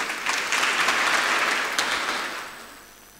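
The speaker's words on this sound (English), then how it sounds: "Please give Professor Njoku again a warm round of applause." Warm applause from a conference audience at a Nigerian agro-industrial program launch, a dense steady wash of many hands clapping that swells then fades out toward the end.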